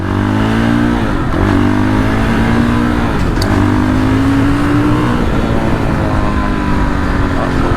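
A loud Fantic Caballero Flat Tracker 500 motorcycle engine drones and revs while riding, its pitch rising and falling with gear changes, close and continuous.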